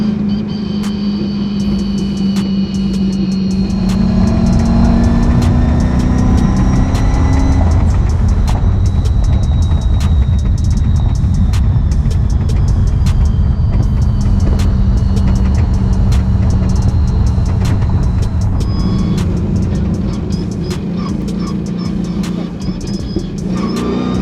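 Shelby car named Vicious rolling in with its engine running at a car show, a loud steady low rumble that shifts in pitch as it moves, mixed with crowd murmur and other event noise.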